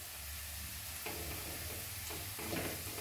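Onions fry steadily in a pan on the stove, giving a soft continuous sizzle with a few faint stirring scrapes, fairly quiet and with no voices.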